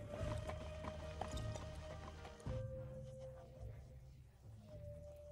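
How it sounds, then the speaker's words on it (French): Horse hooves clopping along in the Assassin's Creed Shadows video game, a steady walking rhythm over a droning in-game music and ambience bed, with a brief louder shift midway. "Je dirais que le cheval avance déjà un petit peu mieux déjà."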